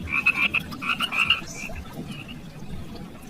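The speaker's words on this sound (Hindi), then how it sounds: "मेंढक हर वक्त टर टर टर करता रहता है" A frog croaks in a quick series of short, bright calls, then gives a few softer, more scattered croaks over a low background hum.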